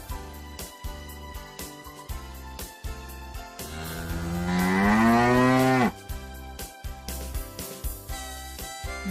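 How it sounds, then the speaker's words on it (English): A cow lets out one long, drawn-out moo that swells and then stops abruptly, heard over a bouncy rhythmic backing track. "cow"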